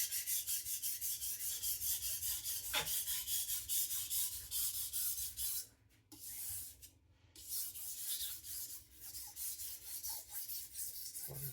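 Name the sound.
knife sharpened on Atoma diamond plate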